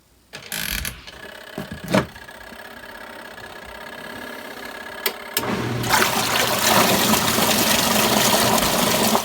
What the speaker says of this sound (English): using a cleared water made the whole washing machine a little noisy right here